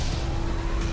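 A car from the video game The Fall rushes past with a loud, steady broadband roar and a low engine drone, with a faint tire-squeal edge, filling the whole second without talk.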